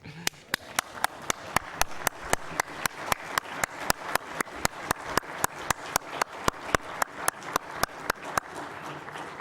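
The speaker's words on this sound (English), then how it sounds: "I was wondering if the Pendergrass representatives in the audience could stand for a round of applause" A lone pair of hands claps in a slow, even rhythm, each clap sharp and distinct in a quiet hall at a 2007 cryptologic history symposium, honoring the Pendergrass family.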